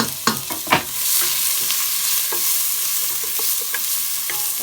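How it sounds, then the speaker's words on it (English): Onions go into hot oil for a curried mince keema and sizzle loudly and evenly. A spoon knocks and stirs near the start, then the frying settles into a continuous close hiss with occasional small crackles. "Right, so I'm going to add my onions in"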